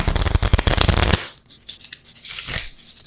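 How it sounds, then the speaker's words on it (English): A deck of playing cards is riffle shuffled up close, giving a dense, fast burst of flicking card clicks for about a second, followed by quieter handling and a brief bridging whir. "they make fun riffling noises when you shuffle them"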